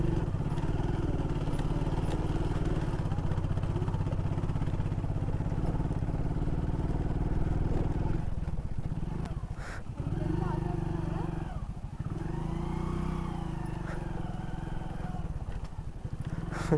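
A motorcycle rides over a rough road of large stones on the way up to Rajmachi fort, its engine a steady close drone that wavers and dips midway while people talk over it.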